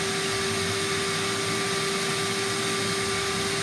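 Vacuum sealer steadily sucking air out of the shipping packaging around a chew-proof dog bed sized for a Great Dane, a continuous loud motor whir with a steady tone and no talking.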